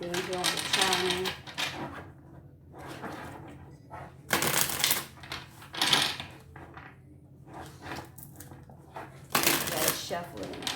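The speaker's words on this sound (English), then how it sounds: "Shuffle it and a couple decks and see what we got." Tarot cards are shuffled in several quick riffling bursts, crisp and close, separated by brief pauses with soft talking in between.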